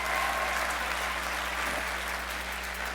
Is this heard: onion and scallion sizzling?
no